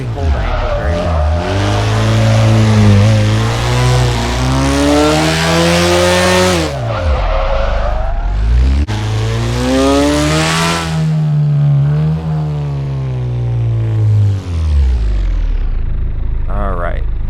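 A Nissan Silvia S15 revs hard in the Drift21 driving game, its engine note rising and falling through long sweeps while the tyres squeal in a skid. The sound is loud and close.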